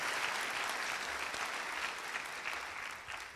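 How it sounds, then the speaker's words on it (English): A crowd at a charity dance benefit keeps up steady, fairly distant applause for the helpers, an even wash of clapping that tapers slightly at the end. "So just one more round of applause, if you would, for everybody that helped make this night possible."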